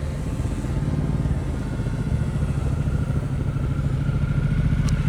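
A motorcycle rides slowly during a group riding lesson, its engine a steady, close mid-pitched drone that holds at a constant level throughout, with no voices.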